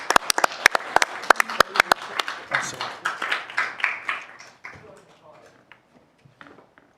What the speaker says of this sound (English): Please give them a round of applause as they come up.